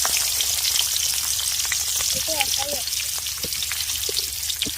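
Salted fish head and fish pieces frying in hot oil in a kadai give a steady, close, crackling sizzle that runs evenly throughout, with a few sharper pops rising above it.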